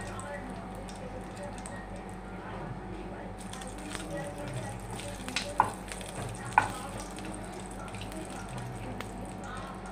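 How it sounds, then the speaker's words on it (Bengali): Whole cumin seeds, bay leaf and dried chillies sizzle in hot oil, a close, continuous crackling fry with a few sharper pops and spits, and a faint voice in the background. "তো আমি ফার্স্টে ফোড়ন দিয়ে দিলাম গোটা জিরে,"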